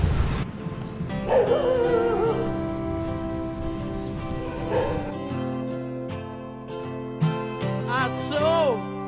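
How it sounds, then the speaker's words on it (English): Dogs at a Buddhist temple in Vientiane, Laos, yelp, whine and whimper in rising cries, close and fairly loud over music and a voice talking. "They have bird dogs in this one."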